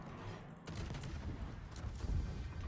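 A French destroyer fires armor-piercing shells in World of Warships, a sudden burst of gunfire followed by rumbling, booming salvos that carry on to the end.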